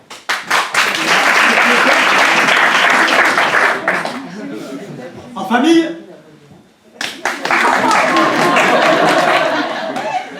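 A comedy-show audience breaks into loud, dense applause, which drops away for a brief spoken question from the stage, then a second full round of clapping swells back up and carries to the end.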